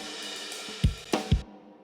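Multi-track recorded drums with overhead, snare and tom tracks play back briefly, with a wash of cymbals and three punchy low hits near the end before cutting off.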